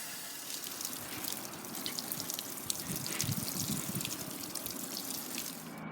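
Water runs steadily from a tap into containers being filled for watering a container garden. The rushing and splashing is continuous and fairly close, and no voices are heard.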